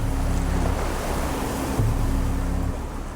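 Ocean waves surge and wash around a sinking boat at sea, forming a steady, loud, close roar of surf with wind buffeting throughout.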